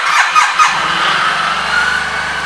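A 2009 Suzuki Burgman 650 scooter engine cranks and catches with a few quick bursts, then settles into a steady, close, low idle with no talk over it.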